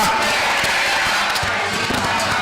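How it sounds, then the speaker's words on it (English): Audience at a Ghanaian book event applauding and cheering for Kennedy, a dense, steady wash of clapping and crowd noise that holds loud throughout. "A big round of applause for him"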